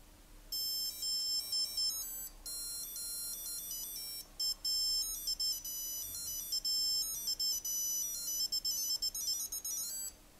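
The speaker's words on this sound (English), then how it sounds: "Now I can do a test alarm while it's flashing on 1 with a long press here" A Q&Q Superior by Citizen watch plays its melody alarm: thin, high electronic beeping tones in a repeating tune, faint and close, running in short bursts for about ten seconds.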